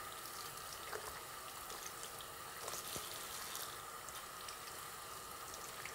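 Water from a tap runs steadily as hair extensions are rinsed in a sink, a soft, even splashing flow with faint drips, fairly quiet and with no talk.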